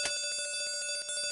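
An alarm clock bell rings in the video game Castle of Dr. Brain, a rapid metallic trill with steady, evenly spaced strikes that sounds close and synthetic.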